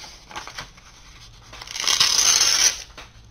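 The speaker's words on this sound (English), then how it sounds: "And then I'm going to tear it." Paper being torn by hand after creasing, while making a paper pencil extender; a few soft rustles and then a sustained, brighter ripping tear lasting about a second, close and alone without talk.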